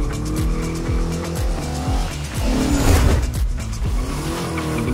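A Mercedes-Benz 300 SEL 6.8 AMG Red Pig tribute car drives close by, its engine note rising and falling through repeated gear changes, with drivetrain whine and a swelling roar midway, heard without talk.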